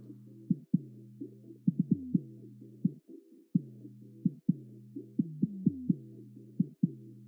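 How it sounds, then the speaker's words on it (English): A song soloed to the 160 to 300 hertz upper bass band plays alone, its 808 kick landing as regular punchy thumps under a sustained low tonal drone, fairly quiet. "the next frequency band is the upper bass band, which according to this chart is 160 to 300 hertz."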